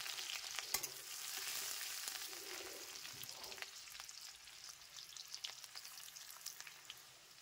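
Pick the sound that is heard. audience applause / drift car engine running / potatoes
potatoes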